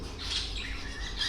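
Pet finches in a cage give a brief burst of high, squawky calls, faint and close, with no speech.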